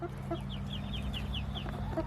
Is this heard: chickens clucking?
yes